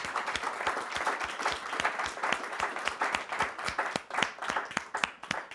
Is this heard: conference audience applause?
yes